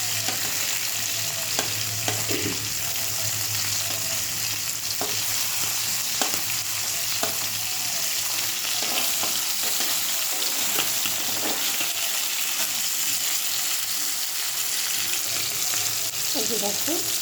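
Fish fries in hot oil with a continuous crackling sizzle, and intermittent clinks and scrapes of a utensil stir through it at close range, without talk.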